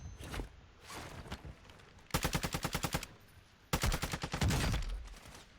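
Rapid automatic gunfire in a shooter video game, two sharp bursts of about a dozen rounds each following a few single shots, loud and close, with footsteps between the bursts.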